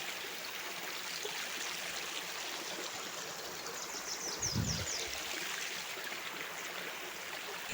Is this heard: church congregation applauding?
no